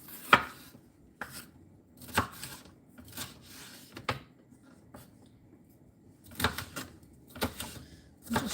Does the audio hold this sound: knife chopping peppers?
yes